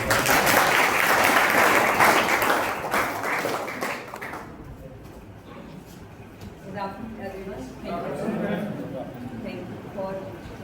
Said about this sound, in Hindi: आप सभी लोगों से अनुरोध है कि एक बार ताली बजाकर उनको